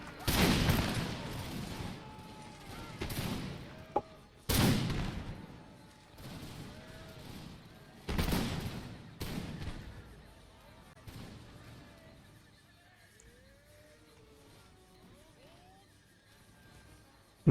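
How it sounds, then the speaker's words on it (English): Musket volleys from a line of Enfield-armed infantry in the Empire Total War Victorian Era mod, several loud broadband bursts at irregular intervals over the first ten seconds, each decaying into rumble, followed by quieter battlefield ambience and a final crack. "now that we are ready, we're going to begin shooting"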